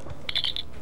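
A quick, high-pitched electronic chirp from a Star Trek communicator warbles briefly, a short bright trill lasting under half a second against a quiet background.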